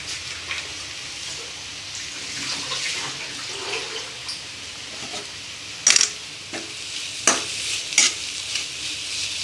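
Spicy pasta stirred in a hot pan with a crumbled cube mixed in, giving a steady soft sizzle and scraping with a few sharper clinks of the utensil against the pan, close and alone.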